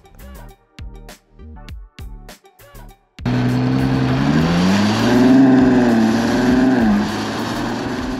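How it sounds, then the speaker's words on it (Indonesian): A Ferrari 12 Cilindri with a 6500 cc V12 engine drones loudly and steadily as it drives, its pitch rising and falling slightly, after a few seconds of brief clicks and quiet gaps. "ini kita nyobain mobil ini 12 silinder, dia mesinnya 6500 cc"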